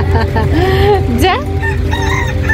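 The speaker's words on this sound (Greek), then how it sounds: "οι κότες έκανε κουκουρούκου" A rooster at a zoo in Skopje lets out a single loud, close crow with rising and falling pitch, set against a noisy outdoor background with faint chatter.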